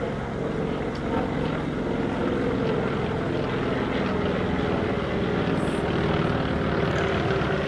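World War II FM-2 Wildcat fighter and Dauntless dive bomber passing overhead during a flyover in Washington, D.C., a loud, continuous piston-engine drone and propeller roar that holds steady throughout, with no voices.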